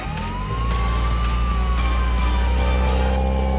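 An ambulance siren wails close and loud, its pitch sliding slowly up and down over a heavy low engine rumble, with a few sharp clicks or knocks breaking through.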